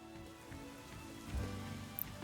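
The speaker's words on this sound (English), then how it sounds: "It is raining." Rain falls steadily in Pokemon Legends Z-A, a soft constant patter at low volume with game music tones running underneath and no speech.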